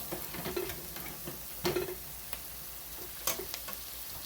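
Onions and other vegetables soften in a hot pan for pot pie filling, giving a low sizzle with occasional stirring scrapes and clicks from a utensil, and no voices.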